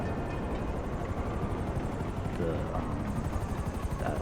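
A steady video game helicopter rotor drone with engine roar as it lands, continuous and fairly loud throughout, with a voice faintly underneath.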